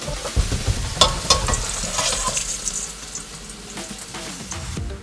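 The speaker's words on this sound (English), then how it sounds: "This onion is done. Now I'll strain the oil out." Hot oil from freshly fried onions hisses and sizzles as it is strained off, with a few clinks of a utensil at the start and a steady crackle that slowly eases, close and without talk.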